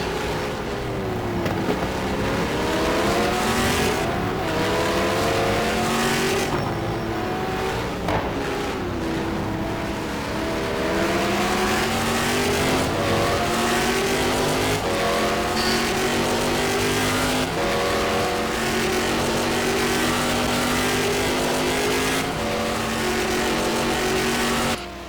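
Heavier Ford GT race car and rival GT-1 cars in a racing video game league event at Fuji, engines revving and accelerating continuously, with rising and falling engine tones and tire wheelspin coming off a corner, loud and sustained throughout.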